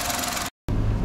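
Engine of a second-generation Suzuki Alto Lapin kei car steadily running as it pulls away, loud and continuous, broken by a brief cut of silence before the engine drone resumes.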